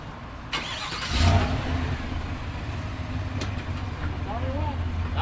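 A Pontiac Firebird project car's engine revs as it is pulled slowly forward toward a trailer, a steady loud mechanical drone with a brief surge near the start and people talking nearby.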